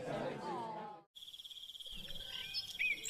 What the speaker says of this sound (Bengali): চারদিক ঝিঝি পোকার ডাক ছাড়া কিছুই শোনা যাচ্ছে না